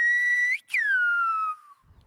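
Silbo, the whistled language of the Canary Islands, rendered as a loud, close, pure whistle: a high steady tone that bends upward, breaks briefly, then glides slowly downward and fades.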